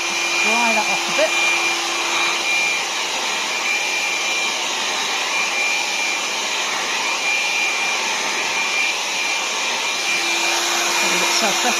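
A hair dryer runs continuously, drying a clay pottery dachshund planter, a loud, close, steady blowing whine with a faint tonal hum and slight shifts as it moves around the piece.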